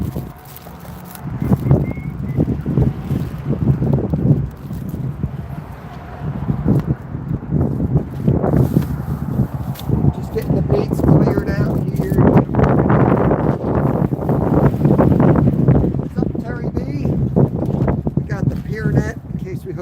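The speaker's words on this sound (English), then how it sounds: "we got wind coming in, big time wind" Strong wind buffets the microphone on a fishing pier, a continuous loud rumble and roar that swells and gusts throughout, with people talking over it.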